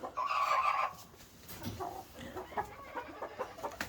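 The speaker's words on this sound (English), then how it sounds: "Here is Slick, Justine, and Jesse, my Thai game bird." Thai game fowl cluck nearby, with one drawn-out call at the start followed by a series of short, broken clucks.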